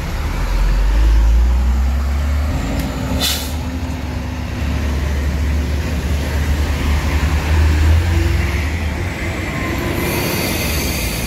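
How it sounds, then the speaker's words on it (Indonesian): Heavy dump trucks hauling soil crawl through congested traffic, making a loud, continuous low engine rumble. Brief squeals and air-brake hisses cut through, and a sharp hiss of released air comes near the end. "Mobil dam untuk nimbun tanah semua nih."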